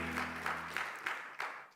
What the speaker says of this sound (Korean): 하늘께 영광의 박수 올리십니다